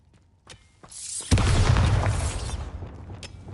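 Confringo and Bombarda spell blasts in Hogwarts Legacy: a few faint pops, then one loud booming explosion with a crackling, debris-filled rumble that fades over a second or so.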